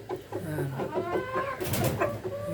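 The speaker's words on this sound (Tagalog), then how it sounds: "Ito yung mga hens natin na Rhode Island." Rhode Island hens in a breeder cage clucking and calling in a close, busy flock, with soft chicken vocalizations layered over one another throughout.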